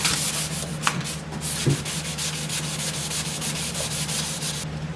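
Rapid rhythmic rasping of 400-grit sandpaper rubbed back and forth over wood, close and steady, with a hum underneath and no talking.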